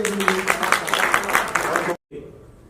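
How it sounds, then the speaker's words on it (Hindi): Audience applause at a birthday celebration and radio program launch for a singer, a loud, dense wash of clapping for about two seconds that cuts off abruptly, followed by a quieter room tone. "एक जोरदार ताली बजा दीजिए"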